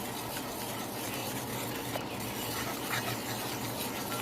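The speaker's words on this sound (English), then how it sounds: "I'll stir those ingredients in." Lipton onion soup mix being stirred into a pan alongside cube steaks, with a steady low scraping and faint sizzle throughout, no voices.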